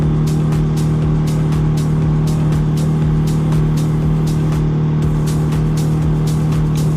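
A car engine drones steadily up close as the vehicle rolls gently along a rural dirt track in Normandy, with a constant low hum and faint regular ticking or bumping throughout, no talking.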